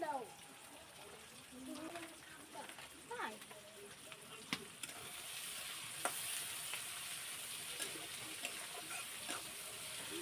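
Spice paste for fish curry sizzling in hot oil, a soft, fairly faint frying hiss with occasional clinks and stirring scrapes, a voice talking intermittently over it.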